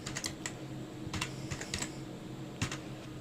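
Typing on a computer keyboard while entering a name, quiet scattered clicks in short bursts with pauses between them.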